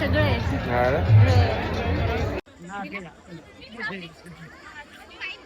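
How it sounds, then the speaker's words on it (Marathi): Dense crowd chatter fills an outdoor Agri festival fair, loud babble of many voices for the first two seconds, then dropping abruptly to a softer, more distant hubbub of overlapping talk. "काय क्राऊड आहे बाबा गर्दी बघा किती आहे"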